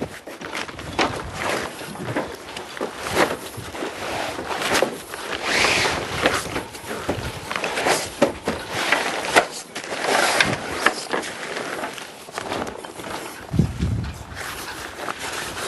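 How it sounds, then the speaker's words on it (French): A folded jib sail is rolled up to fit into its bag, giving repeated rustling and crinkling swishes of sailcloth with soft thumps at an irregular pace, close and moderately loud, with no talk. "il reste plus qu'à le rouler pour qu'il puisse rentrer après dans le sac"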